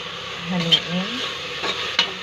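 Food stirred in a hot sizzling pan, a steady frying hiss with scraping stir strokes and a couple of sharp utensil clinks, close and alone.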